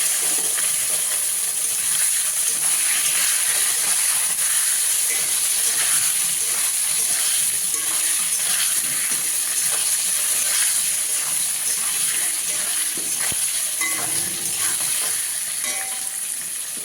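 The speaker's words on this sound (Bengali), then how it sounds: "এবার বেগুনগুলো ভেজে নেবো" Eggplant frying in a pan with oil, a steady close sizzle and hiss that runs continuously, with occasional stirring scrapes and no talk.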